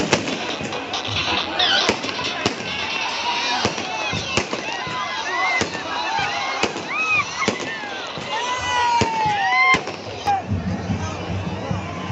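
Firecrackers burst repeatedly at a Ganesh procession in Shivamogga, sharp cracks and whistling rockets over a huge crowd's constant chatter and cheering, loud and close.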